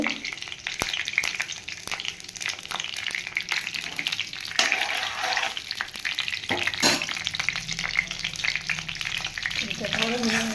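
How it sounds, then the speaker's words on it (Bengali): Steady sizzling and crackling of chopped potatoes and figs frying in oil in a heated wok, with occasional stirring scrapes, continuous and fairly close throughout. "আলু কুচি করে ডুমুর দিয়ে ভাজা ভাজা শুরু করি"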